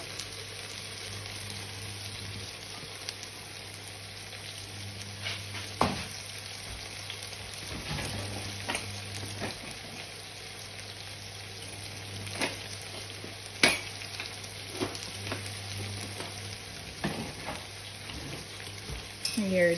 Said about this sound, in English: and you're just going to fry it